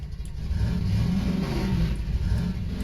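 A scooter engine in the video game Voices of the Void revs steadily at mid pitch, a continuous, fairly close drone with slight rises and falls in speed, heard alone.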